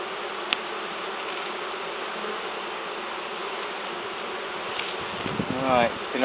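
Bees inside a sofa give off a continuous, dense buzzing hum, close and steady, with a single bee's drone rising and falling near the end.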